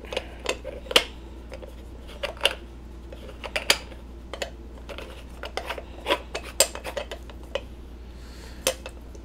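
A metal stovetop espresso pot is screwed together tightly with a run of small scraping clicks and taps, close up and fairly quiet with a low hum underneath.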